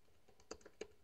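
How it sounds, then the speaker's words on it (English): A few soft, faint keystrokes on a computer keyboard, quick clicks spaced over about a second in a quiet room. "So I'll hit enter on my keyboard"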